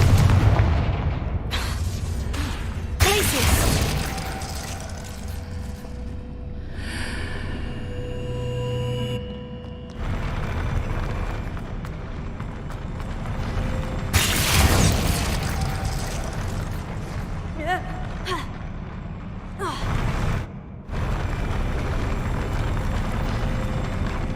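Confringo blasting-spell explosions in the Hogwarts Legacy video game, several loud booming bursts erupting in sequence over a continuous game soundscape, with sharp blasts near the start, middle and end.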